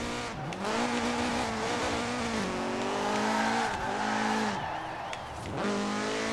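Car engine in the video game Forza Horizon 4, a continuous droning rev that rises and drops with gear changes and dips as if nearly stalling, with some tire squeal, loud and steady.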